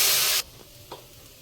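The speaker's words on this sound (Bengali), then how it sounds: "এখন পেঁয়াজ বাটা দিয়ে দিলাম, পেঁয়াজ আদা বাটা, টমেটো পেস্ট করেছিলাম সেটা দিয়ে দিয়েছি।" Onion-ginger paste and tomato paste hit hot oil for a tilapia fish curry, giving a loud, bright hiss for a fraction of a second that quickly drops to a faint, quiet simmer.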